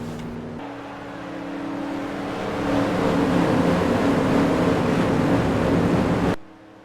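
NASCAR race cars in the NR2003 game circle at Daytona International Speedway behind the pace car, a droning engine roar that swells louder and holds steady, then cuts off abruptly at the end.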